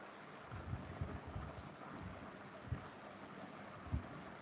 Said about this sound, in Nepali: पानी पर्न थाल्यो है